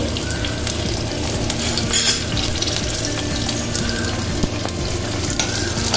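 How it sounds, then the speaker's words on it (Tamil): Whole spices spluttering and sizzling in hot oil in a pan, the start of a pepper mutton curry; a steady, dense crackle carries on throughout with no one speaking. "நல்ல ஒரு வாசனையோட பொரிஞ்சிருச்சு."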